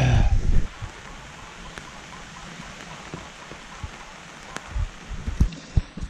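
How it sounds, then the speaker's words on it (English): Steady rain falling outdoors on a homestead, a soft continuous wash of drops with a few louder close patters and knocks near the start and end. "it's raining out again"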